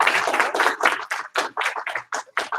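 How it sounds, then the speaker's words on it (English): An audience clapping in a live group gathering, with a quick run of sharp, close hand claps that thin out toward the end, under faint background voices. "Give him a clap. 2 claps."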